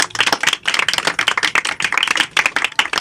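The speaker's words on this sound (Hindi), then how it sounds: "कुरान के लिए एक दफ़ा ज़ोरदार तालियां बजा दें" A church audience claps loudly in a dense, sustained burst of applause at a gathering honoring the Quran, many hands close together with no voices over it.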